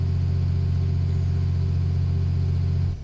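A 2014 Ram Cummins diesel engine is held at a steady 2000 RPM, producing a loud, constant low rumble that drops off right at the end.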